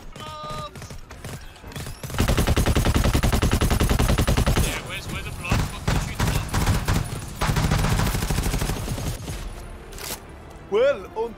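Heavy automatic gunfire in the GTFO video game as the squad shoots at blob enemies, a loud sustained burst lasting several seconds with short pauses, while players shout and talk over it.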